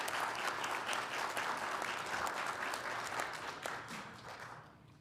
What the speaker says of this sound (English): a round of applause for all of our student senators